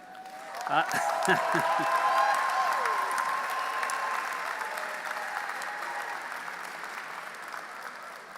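A convocation audience applauds in a dense, sustained wash of clapping with a few cheers and whoops, loud at the start and slowly tapering off over several seconds.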